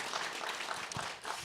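Audience applause at a film festival panel, a dense broadband wash of many hands clapping steadily for the full moment, fairly loud and close, with no talk over it.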